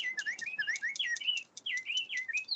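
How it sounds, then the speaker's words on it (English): A pet bluebird chirps and sings in quick, bright repeated phrases, close and clear, with brief tweets running almost continuously. "That's her Bluebird. beeps at you and sings "Oh Susanna" from time to time."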